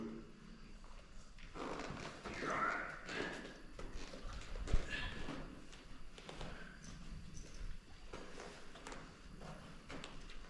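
Hooves of a young Clydesdale horse clip-clop in scattered, irregular steps during ground-tie training, fairly faint and close, with light handling noises between them.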